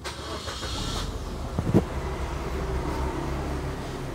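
A 2014 Suzuki Ertiga automatic starts with a short whirr of the starter and catches. It settles into a quiet, steady idle, heard close by from inside the car.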